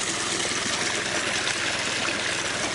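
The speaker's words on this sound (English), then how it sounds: "So this will definitely drain enough water out of this pond to get the extra foot in" Water drains from a pond through a siphon hose, a steady close rushing trickle that holds at an even level with no talking.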